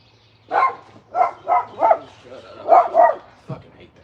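A neighbor's dog barking in a series of about six sharp, mid-distance barks with uneven spacing, ending in a lower short yelp, outdoors with a faint steady hum underneath.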